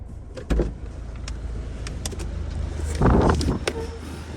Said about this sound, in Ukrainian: автомобіль заводиться гарно, ніяких чеків не горить, працює рівно